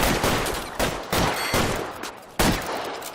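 Gunfire crackles in an L.A. Noire shootout, a series of loud, close sharp shots in an uneven rhythm, about five distinct bursts over a few seconds with short gaps between them.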